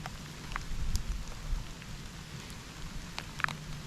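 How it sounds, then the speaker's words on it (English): Heavy rain pours down steadily, a dense hiss with scattered sharper drops pattering nearby. "It's raining pretty hard now."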